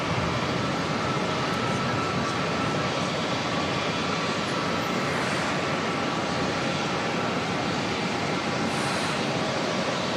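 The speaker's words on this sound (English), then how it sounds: "Just about to hear the Delta A350 starting up in the background." A Delta Airbus A350 at Auckland Airport spools up its jet engines, a steady, broad roar that holds evenly throughout, sounding fairly distant and blended with general airport background noise.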